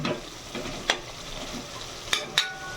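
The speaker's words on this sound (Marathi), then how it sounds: "आता याला छान तेल सुटेपर्यंत फ्राय करून घ्यायचं आहे." Mutton pieces with turmeric and salt frying in oil in a pan, a steady close sizzle with occasional stirring scrapes and a few sharp clinks of a utensil against the pot.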